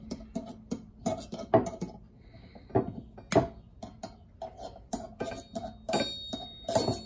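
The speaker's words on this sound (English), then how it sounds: "So let me cut this off real quick." Repeated sharp snips and crinkling clicks of scissors cutting through the packaging of Mueller Keups wrench extenders, irregular and close, with quiet gaps between cuts.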